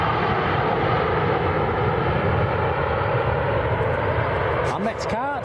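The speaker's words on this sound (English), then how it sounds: "Just noticed in the background there the Turkish A330's taxiing out." A Turkish Airlines A330 airliner taxiing at Manchester Airport gives a steady, continuous engine roar that holds at an even level throughout. A brief tonal sound breaks in at the very end.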